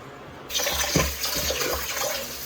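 Water is poured or run into a container indoors, a steady splashing gush that starts suddenly and continues at close range.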